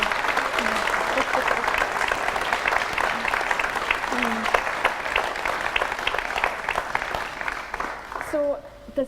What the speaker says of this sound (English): we should give Dominica a big round of applause